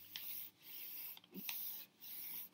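A paper zine being folded by hand, with the edge brought into the middle and creased: soft rubbing and sliding paper strokes, close and quiet, in a few short bursts.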